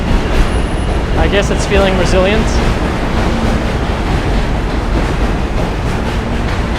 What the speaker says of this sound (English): J-Train, good to hear.